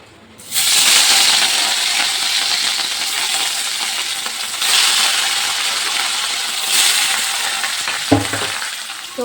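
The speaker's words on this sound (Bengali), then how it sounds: "এখন হবে এই যে মাছ ভাজা।" Fish rubbed with salt and turmeric sizzles and spits in a hot pan, a loud steady frying hiss that swells as pieces go in, with a few clinks of a utensil near the end.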